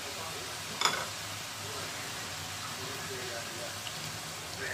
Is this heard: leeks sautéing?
yes